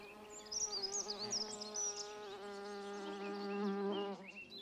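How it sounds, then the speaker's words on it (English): Earth bumblebees buzz near their colony in a former mouse hole, a loud steady droning hum with wavering pitch that carries on for several seconds, close by and alone. "Here, a queen earth bumblebee lives in her bumblebee colony."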